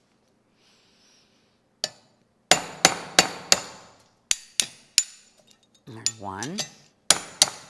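A hammer striking a metal disc cutter to punch discs from metal for jewelry, giving loud, sharp ringing metallic bangs at irregular intervals, with a brief scraping slide between strikes and a short spoken word early on.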